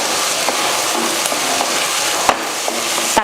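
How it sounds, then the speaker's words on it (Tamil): Tomatoes with ginger garlic paste sautéing in a pan: a steady, loud, close sizzle broken by occasional scraping and clinking of the spoon as the mixture is stirred. "இப்போ எல்லாத்தையும் ஒன்றா வதக்கி தக்காளியெல்லாம் நல்லா மசிஞ்சு வரும்"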